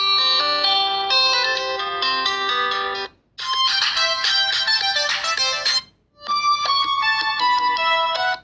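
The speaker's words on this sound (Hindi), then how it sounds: "यहाँ से कुछ रिंगटोन्स को चला के देख लेते हैं।" Ringtones playing at full volume through the loudspeaker of a Tecno Spark 5 Pro phone: three bright electronic melodies, each loud and tonal, separated by brief silent gaps.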